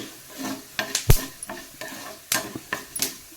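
Coriander and fenugreek seeds frying in oil over a low flame for Udupi-style sambar, irregular sharp crackles and spluttering pops with occasional spoon clinks against the pan, close up, no speech.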